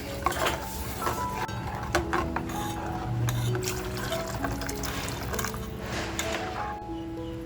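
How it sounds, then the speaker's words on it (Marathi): Water is poured into a pan of Malvani-style sardine curry, a soft splashing pour mixed with clinks of a utensil against the pot, close and moderately loud. "जितकं पाणी पाहिजे तितकं पाणी टाकायचंय तर पाणी टाकते"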